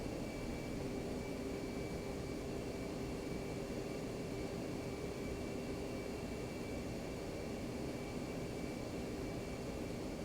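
Jet aircraft taking off in the DCS flight simulator, an F-15C session on a multiplayer server, heard as a constant faint engine roar with a steady whine, unchanging and distant, no talking.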